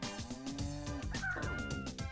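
Rooster enemy cry in the video game Pekka Kana 2, a loud, close, harmonic squawking call lasting about two seconds with several wavering pitch shifts over game music.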